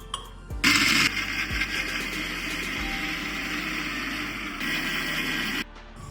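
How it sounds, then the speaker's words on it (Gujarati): A mixer grinder blends green chutney made with green chilies and a little water, a loud, steady whirring grind that kicks in abruptly, runs for about five seconds with slight surges, then cuts off. "થોડુંક પાણી નાખીને હવે આપણે ગ્રાઇન્ડ કરી લેવાનું છે."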